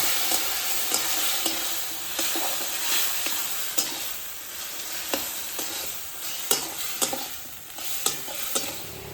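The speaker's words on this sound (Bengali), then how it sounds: "একটুখানি জল দিয়ে আমি মশলাগুলোকে ভালো করে মিশিয়ে কষিয়ে নেব।" Ground green chilli paste and turmeric cook with a splash of water in a pan, a dense steady sizzle broken by repeated rhythmic scrapes and taps of a spoon stirring, no speech.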